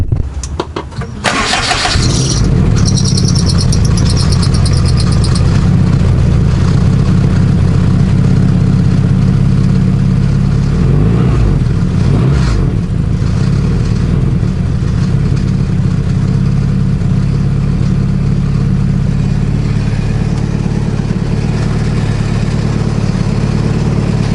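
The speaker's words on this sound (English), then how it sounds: "So I'm gonna do a cold start just to see what it sounds like." Honda Accord CB7 with an AWD swap and a new, only tack-welded exhaust cold-starts, catching with a loud burst before settling into a steady, rumbling idle with a few revs, close up and alone with no talk.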